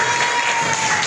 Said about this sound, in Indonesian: Beri tepuk tangan untuk Mas